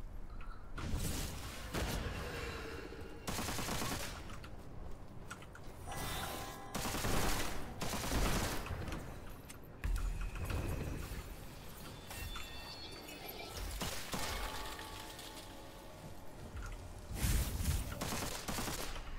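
Repeated blasts of a fire orb special ability in the video game Witchfire crack out in dense, loud bursts across the whole stretch, with no talking.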